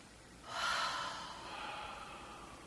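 A single audible breath, a sharp airy inhale that swells quickly and then trails off into a soft, fading exhale, close and alone in a quiet room.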